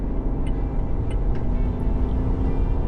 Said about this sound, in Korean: 엔진 배기음도 가속 페달을 밟으면 슬쩍슬쩍 보여줍니다